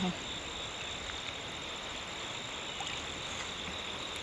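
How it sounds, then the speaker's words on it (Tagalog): A strong river current swollen by days of typhoon rain rushes past near a bamboo raft, giving a steady, broad wash of flowing water throughout. "medyo po lumaki-laki po ang agos. Gawa po ng ilang araw po ditong maulan."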